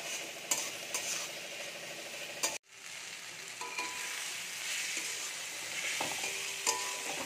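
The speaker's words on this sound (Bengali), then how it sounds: "আর তার সঙ্গে দিয়ে দেবো একটু কাসুরি মেথি। মশলাগুলো খুব ভালো করে কষিয়ে নেব।" Chilli powder, kasuri methi and other spices fry and crackle in hot oil for an egg tadka, with a spatula stirring and scraping the pan. The sizzle runs continuous and close, broken once by a brief pause, with occasional clinks of metal.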